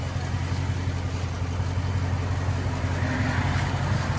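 A Dodge Challenger SRT with a 6.4L HEMI V8 idles with a deep, steady exhaust rumble, a low throaty burble holding even throughout with no talking.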